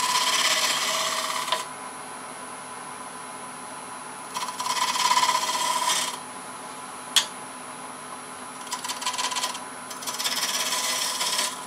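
A detail gouge shapes a spinning wooden piece for a child's stool on a lathe, with a steady lathe drone under several scraping, rasping cuts that come and go.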